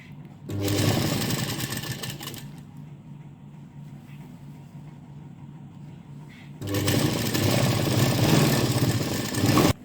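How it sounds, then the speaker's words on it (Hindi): A sewing machine runs in two loud stitching bursts along a blouse side seam, with a quieter stretch of low mechanical hum between them. "अब हम देखिए इस साइड वाली साइड पर यहाँ पर सिलाई लगाएंगे।"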